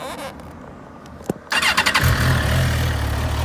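A 2007 Suzuki GSX-R1000 with a fuel-injected 1000cc inline four-cylinder engine cranks and fires up, then settles into a loud, steady idle close by, with no speech.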